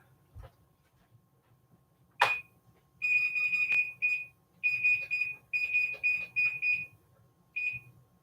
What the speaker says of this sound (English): And I'm going to set the timer on the stove.